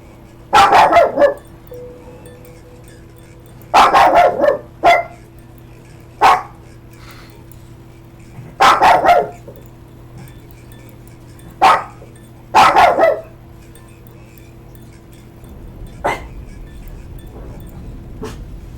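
A dog in the video game Bioshock Infinite: Burial at Sea barks in short clustered volleys of two or three sharp barks, repeated at intervals over a quiet hum, close and loud.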